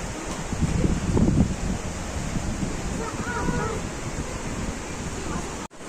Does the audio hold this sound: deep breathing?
no